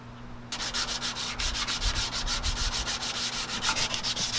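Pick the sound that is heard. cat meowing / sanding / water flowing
sanding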